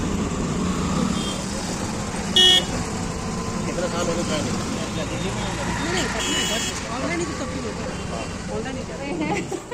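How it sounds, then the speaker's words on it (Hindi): Heavy road traffic with engines rumbling continuously and two short car horn blasts, one early and one midway, under a person talking nearby. "यहाँ बहुत ज़्यादा ट्रैफिक हो रखा है"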